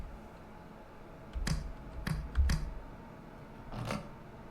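Number buttons are clicked in the Christmas Shotgun video game, giving four quiet, sharp clicks spaced irregularly over a faint background.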